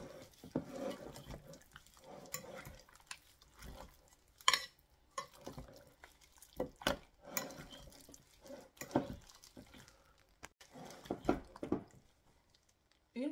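Eggs get mixed into a chicken wing marinade by hand in a bowl, giving irregular wet squelching and clicking strokes of a utensil, fairly quiet and close, with no talking.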